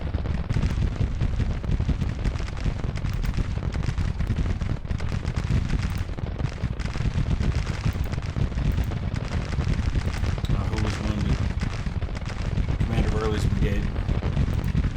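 Civil War artillery in Grand Tactician booms in a continuous heavy, rumbling barrage with overlapping musket crackle, loud and dense throughout, while someone talks over it.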